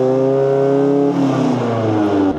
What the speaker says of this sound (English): and then it will rev all the way.